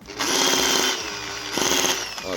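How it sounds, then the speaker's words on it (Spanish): A small electric drill straining as it bores a large hole, its motor whining loud and close, the pitch sagging and recovering in uneven surges. "le cuesta bastante para hacer este tamaño de agujeros al taladrito que tenía"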